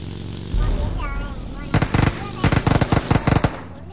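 Automatic gunfire in the shooter game PUBG Mobile, several rapid bursts of shots in the second half, close and loud, with game sounds before them.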